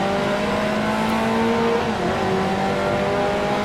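A 1955 Formula One race car accelerates out of a hairpin at the French Grand Prix in Grand Prix Legends, its engine a loud, steady buzzing drone with rising pitch, alone without talk.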